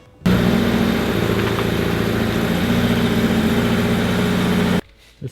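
A Scion FR-S car engine runs steadily as the car pulls forward, a loud, close, continuous low rumble that starts abruptly and cuts off near the end.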